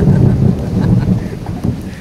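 Thunder from lightning rumbles loud and low through steady rain and wind buffeting the microphone, a continuous rolling roar with no clear pauses.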